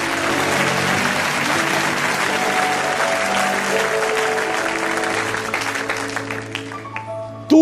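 Church congregation applauding together to acclaim God's glory during a sermon, a dense sustained round of clapping filling the hall, loud and steady with a faint musical drone underneath before ending abruptly.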